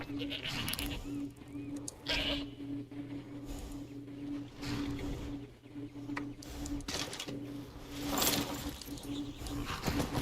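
Goat bleating in Skyrim, repeated bleats over a steady low hum and scattered game noises, with someone talking in places.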